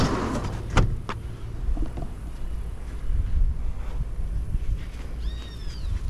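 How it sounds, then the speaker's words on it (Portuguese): A car door is shut with a single dull thud early on, at a campsite near the beach in Baía Formosa, followed by quiet outdoor ambience and light wind. "Deixa eu fechar a porta aqui."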